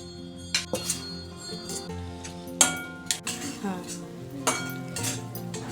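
A metal spoon stirs grated coconut into melted sugar syrup in a pan, producing irregular sharp clinks and scrapes against the metal, several distinct knocks spread over a soft background.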